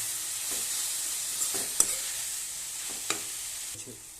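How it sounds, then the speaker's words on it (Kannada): Coriander leaves and mint sizzling in a pan with oil, a steady soft frying hiss broken by a few brief stirring clicks and scrapes, close and moderately loud, with no one talking. "ಕೊತ್ತಂಬರಿ ಸೊಪ್ಪು ಪುದೀನ ಸ್ವಲ್ಪ ಸ್ವಲ್ಪ ಹಾಕಿ ಚೆನ್ನಾಗಿ ನೀಟಾಗಿ ಚೆನ್ನಾಗಿ ಫ್ರೈ ಆಗಬೇಕು"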